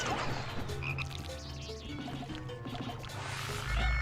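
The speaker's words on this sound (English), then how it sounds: "The Mario frog" A frog enemy in the video game Pikmin 2 croaks repeatedly over a busy game soundtrack, with watery dripping effects mixed in and no talking.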